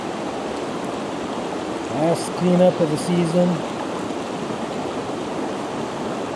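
A gold-panning creek flows in a steady, close rushing wash that carries on unbroken, while someone speaks briefly over it midway.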